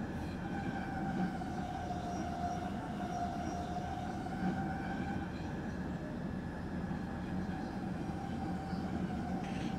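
Stopping train 30824 bound for Zutphen rolls steadily along the rails with a continuous low rumble and faint tonal whine, loud and close, with no pauses across the stretch.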